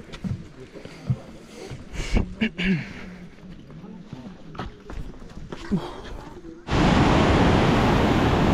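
A flowing river beside a swaying footbridge at Machu Picchu in Peru, heard at first as a steady rushing under wind and faint movement, then as a sudden loud, close roar of water or wind noise.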